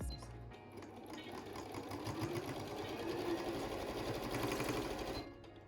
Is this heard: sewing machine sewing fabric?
yes